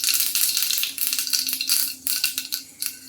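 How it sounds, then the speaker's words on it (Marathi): Mustard seeds crackling and popping in hot oil as a tempering for val khichdi, a rapid, irregular burst of sharp pops close up that thins out toward the end, with no talk over it. "मोहरी तडतडलेली आहे."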